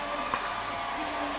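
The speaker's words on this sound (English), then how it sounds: "Dang, that crowd is loud." A large pickleball championship crowd at the grandstand court roars and cheers in a steady, loud wash of noise with one brief sharp peak.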